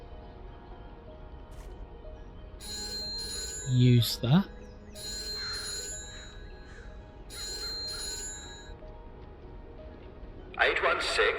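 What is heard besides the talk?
telephone ringing in a video game train station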